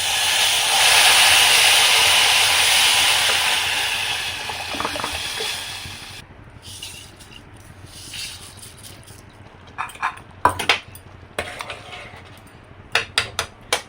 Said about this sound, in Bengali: এখন আমি জলটা দিয়ে দিব পরিমাণ মতন।